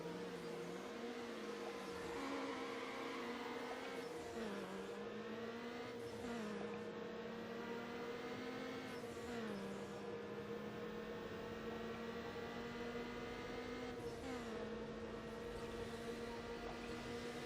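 Car engine in a Need For Speed Underground drag race, revving continuously with repeated rising pitch sweeps and brief drops at each gear change, a steady loud drone throughout.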